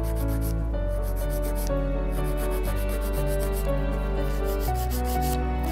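Acrylic nail being filed into a ballerina shape with a steady back-and-forth rasping rub, close and even, under a continuous backdrop of tonal music.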